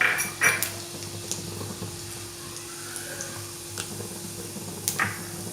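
Mustard and cumin seeds spluttering in hot oil, sharp scattered pops and crackles over a faint steady sizzle, quiet and close.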